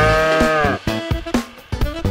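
Cartoon cow mooing in an animal balloon game, a loud, close, drawn-out low bellow followed by several shorter broken moo syllables.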